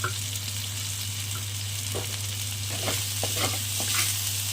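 Brahmi greens frying in ghee in a pan give a steady, loud sizzle with intermittent stirring scrapes, close and continuous, no voices over it.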